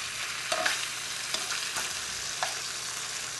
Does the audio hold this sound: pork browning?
yes